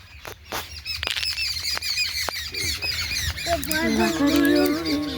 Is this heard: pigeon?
yes